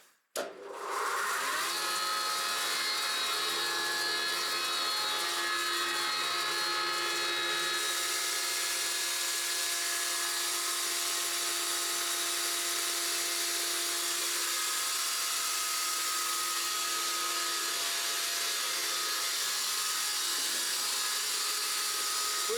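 A grain crusher starts up abruptly and settles into a loud, steady whirring roar that runs unbroken to the end.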